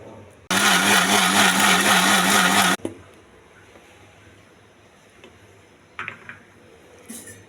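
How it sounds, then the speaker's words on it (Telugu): A mixer grinder blends grapes for juice in a mixie jar, running loud and steady for about two seconds before stopping, followed by a few faint clicks and knocks. "ఇంకా డైరెక్ట్ మిక్సీ జార్లో వేసేసి మిక్సీ చేసుకోవాలండి."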